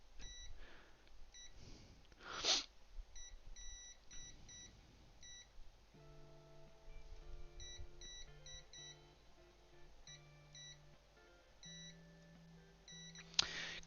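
Multimeter on an Xbox One board giving short repeated beeps in spaced pairs and runs, fairly faint, with a steady low hum in the background and no talk.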